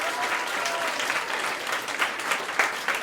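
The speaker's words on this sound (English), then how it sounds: "Can we give them a round of applause" A university audience applauds the volunteers at a hypnotist show, with sustained, even clapping from many hands that holds steady and picks up slightly toward the end.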